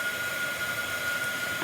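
A small heat-drying tool blows steadily over chalk paste on an Easter craft project, a soft, even whirring hum with a thin whine, fairly quiet and alone for under two seconds.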